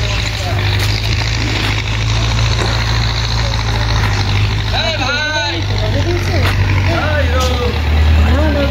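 A car's engine rumbles and hums steadily up close while driving toward the dry Jayanti river bed near Choto Mahakal, continuous throughout, with people talking over it.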